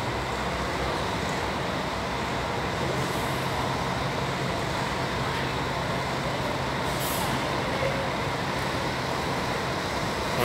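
A Marcopolo Paradiso G7 1800 DD double-decker coach of Viação Novo Horizonte drives off. The sound is a steady broadband engine and road roar, fairly loud and unchanging throughout, with faint hiss bursts.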